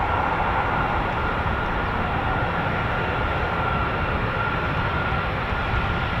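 A KC-135 Stratotanker of the 351st Air Refueling Squadron roars steadily at RAF Mildenhall, a loud, unbroken jet rumble that fills the whole stretch with no talk over it.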